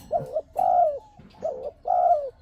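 A spotted dove coos in four short, rounded phrases with brief pauses between them, close and clear against a quiet background.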